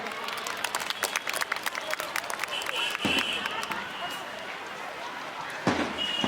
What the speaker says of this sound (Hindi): उनका हम जोरदार तालियों से स्वागत करते हैं